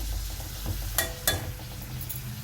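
Tomato pieces sizzle steadily in a pan as they cook, a soft continuous frying hiss with two brief sharper crackles or stirring scrapes partway through; no voices.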